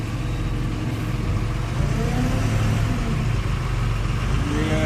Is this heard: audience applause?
no